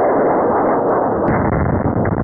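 A rocket-propelled grenade with a shaped-charge warhead is intercepted by the Arena active protection system, giving a loud, sustained, muffled explosive roar with a second blast hit partway through.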